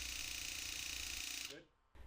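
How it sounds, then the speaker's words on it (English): A Graco Magnum TrueCoat 360 cordless paint sprayer hisses and hums steadily while spraying into a waste bucket, then cuts off abruptly before a brief restart. "Point the sprayer into a waste bucket and trigger for 5 seconds to spray out the storage fluid"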